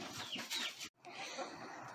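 Young chickens clucking and chirping in a backyard coop, a steady busy chatter close by that pauses for a split second midway, with no talk.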